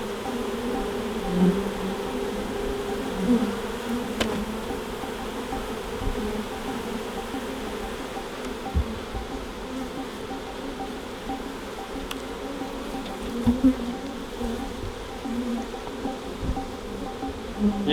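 Honeybees buzz in a steady, moderately quiet hum around an open hive frame of capped brood in Southeast Georgia, with faint knocks and rustles now and then and no talking.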